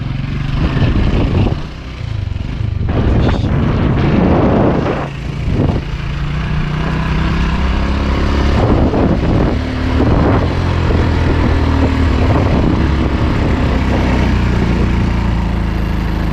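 An old-model Honda motorcycle engine runs close by at a steady idle, a loud continuous low drone with a few brief revs and bumps, no voices over it.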